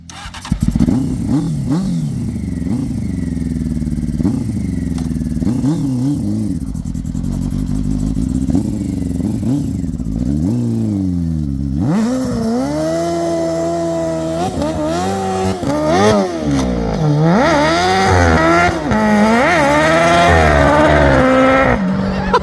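Three-wheeler drag racer engine revving hard on a wet track, loud sweeping rises and falls in pitch, climbing through repeated high revs near the microphone.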